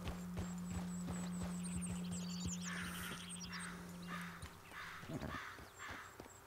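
Horse hooves clip-clop in a quick, even rhythm in the video game Red Dead Redemption 2, with crows cawing in the background, a steady low hum underneath and a brief soft voice near the end.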